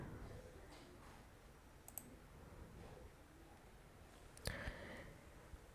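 A computer mouse clicks softly a few times over quiet room tone, with single sharp clicks spaced apart and a small cluster near the end, faint and isolated with no speech.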